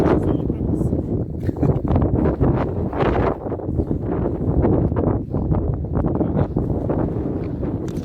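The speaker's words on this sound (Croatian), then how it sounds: "iako je jak vjetar" Strong wind buffets the microphone outdoors at a gathering in Mostar, a steady, loud roar with gusty bursts throughout and voices faintly underneath.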